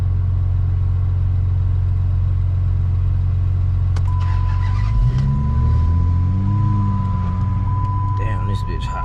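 A misfiring 2006 Dodge Charger with an overheating engine idles as a steady low rumble, then cranks and catches around midway, its revs rising and settling back to idle. A thin whine sits over the engine, and a voice comes in near the end.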